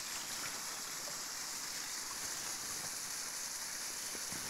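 A small waterfall on the Koyva river, a drop of about a metre, sends out a constant broadband rush of falling water, faint and steady, with no voices.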